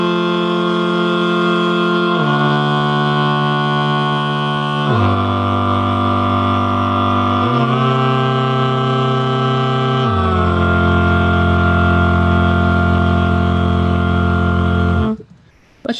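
A choral chord progression in C, tuned low for basses, rings out as sustained sung chords that shift about every two to three seconds, loud and steady, then stop abruptly near the end.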